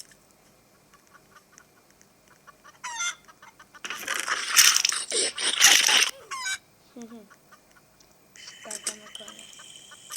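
Chicken clucking in a Roblox obby video game, a run of loud clucks and squawks in the middle of the clip with quieter game sounds around them, while a person talks in Thai over it.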